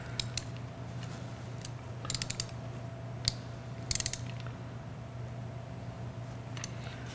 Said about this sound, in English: we have our torque wrench set at 19 foot-pounds